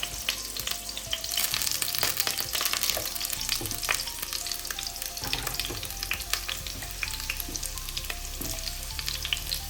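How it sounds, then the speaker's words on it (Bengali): Halved potatoes frying in hot oil for a mutton curry, a continuous close crackling sizzle with scattered pops and occasional utensil clinks throughout. "এই তেলটা এখন গরম হয়ে গেছে, আমি এটার মধ্যে আলুগুলো দিয়ে দিচ্ছি।"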